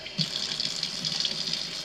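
Water runs steadily from a faucet in a home with 2000s-era interior plumbing, a continuous close hiss and splash with no talking.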